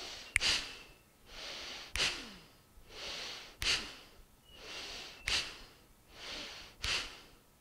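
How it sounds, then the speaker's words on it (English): Slow rounds of Bhastrika bellows breathing in a yoga pranayama practice: six forceful nasal breaths at a steady, unhurried rhythm, each sharp inhale or exhale followed by a softer airy breath, close and clear with no talk. "breathe in, breathe out"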